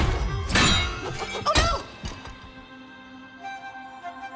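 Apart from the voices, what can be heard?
objects smashing and breaking in Dragon Age: The Veilguard video game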